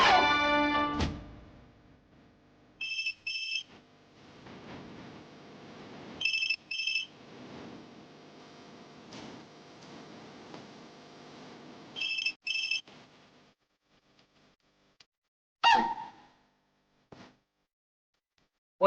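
A telephone rings in a Kannada TV serial drama scene: three separate bursts of a double electronic ring spaced several seconds apart, loud and clear over a low background music bed.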